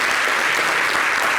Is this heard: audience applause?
yes